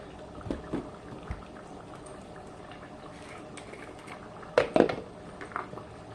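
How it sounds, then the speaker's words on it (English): Coney dog sauce simmers in a pot with a soft, steady bubbling bed, broken by a few louder clinks and splashes near the end, with no talking. "We're going to keep this simmering"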